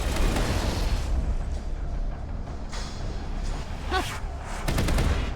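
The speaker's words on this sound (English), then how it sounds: "That grenade worked like a charm." In the Mass Effect video game, a grenade explodes amid gunfire, a continuous loud rumble of shots and blasts with a sharper burst near the end.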